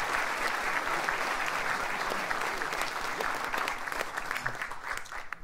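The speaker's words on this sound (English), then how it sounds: "please give our board a round of applause" Sustained applause from a large awards dinner audience honoring the board, dense and steady clapping that holds strong before trailing off into scattered claps near the end.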